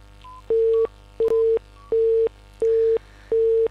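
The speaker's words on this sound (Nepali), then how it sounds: "फोन काटिएको छ।" Disconnected-call tone on a telephone line: five evenly spaced, steady beeps of equal length, loud and close, with short silent gaps between them and no voices.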